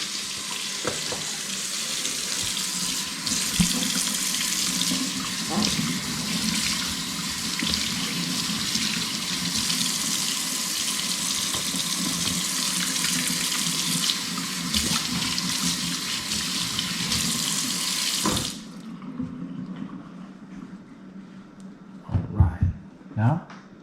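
Kitchen faucet water runs steadily into a sink for about eighteen seconds with a bright, even hiss, then cuts off, leaving a quieter room with a few clatters and thumps near the end.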